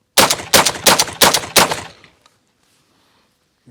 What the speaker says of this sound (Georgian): 28 გრამი უკვე მიბჯენის გარეშეც გაისროლა უპრობლემოდ